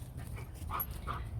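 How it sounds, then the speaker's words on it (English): Pet dogs in a home garden bark and yip at a neighbor's dog being walked past: a few faint, distant bursts over a low background hum. "pardon my dogs."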